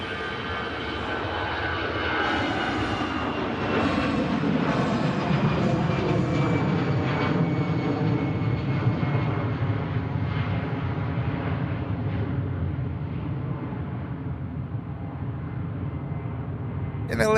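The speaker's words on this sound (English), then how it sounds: "And the Ryanair from Prague on finals." A Ryanair airliner on final approach at Manchester Airport, a loud, sustained jet engine roar with a slowly falling whine that swells and then gradually fades.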